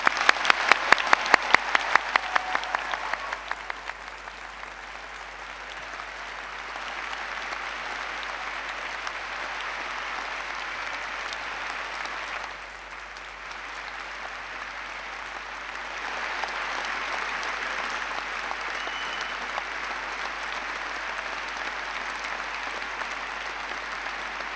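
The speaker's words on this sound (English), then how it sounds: "Please join me in a round of applause to the graduates." Sustained applause from a graduation audience honoring School of Medicine graduates at a commemoration ceremony, a dense steady wash of clapping that starts loud, dips briefly midway and carries on evenly throughout.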